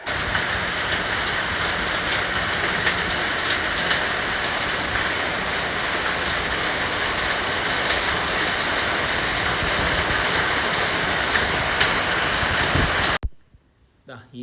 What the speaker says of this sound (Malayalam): അപ്പോൾ നല്ല മഴയാണ്